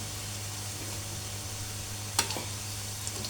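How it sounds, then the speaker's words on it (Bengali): Coriander leaf fritters sizzle in hot oil with a soft, steady hiss and a brief sharper crackle partway through, fairly quiet and with no voices. "এভাবে আমি ভেজে নিচ্ছি এপিটোপিট করে"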